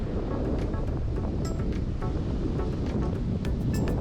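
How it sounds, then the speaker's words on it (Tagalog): Strong wind by the sea on Siquijor during a storm, a constant rough buffeting roar mixed with surf wash, loud and unbroken with no talk. "Medyo malakas yung hangin."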